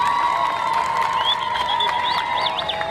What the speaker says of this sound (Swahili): Mpigeni makofi afande.